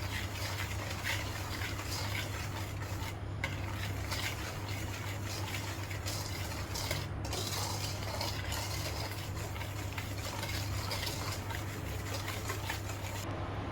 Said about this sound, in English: now I'm going to add the egg. Slowly beat, guys.